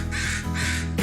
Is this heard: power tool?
no